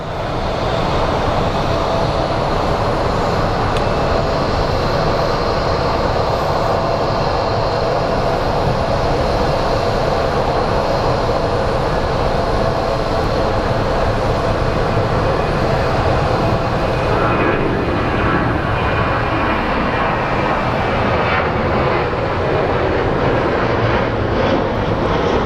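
A jet airliner departs Phoenix Sky Harbor airport with a loud, sustained, rumbling engine roar that holds steady the whole time, close and unbroken, with no speech.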